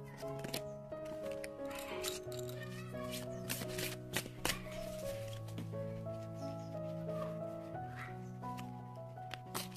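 Tarot and oracle cards riffled and shuffled by hand, a series of crisp papery flutters and taps close up over soft background music, with no talking.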